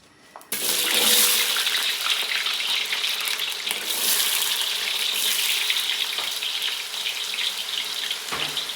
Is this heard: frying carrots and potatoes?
yes